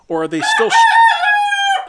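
Hens settling into a new coop let out a loud, close crow, a drawn-out, tuneful call following a few short clucking notes, with a voice briefly heard alongside.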